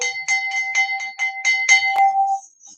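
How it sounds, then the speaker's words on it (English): A chime is struck repeatedly in a quick, regular series of bright ringing hits with a sustained tone beneath them, ending in one sharper strike and a short fading ring, clear and close. "Got the chime again."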